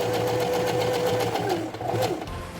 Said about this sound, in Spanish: empezamos a coser entonces